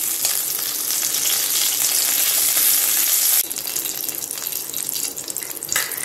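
Bell peppers (capsicum) frying in a pan, a steady loud hiss of sizzling oil that drops to a softer, thinner crackle partway through, with no talking.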